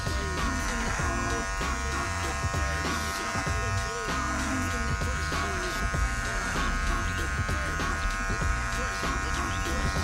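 Electric hair clippers fitted with a 1.5 guard, taper lever fully closed, buzz continuously and close up while cutting hair on the back of the head during a bald fade.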